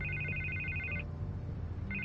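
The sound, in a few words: telephone ringing in the Batman Telltale video game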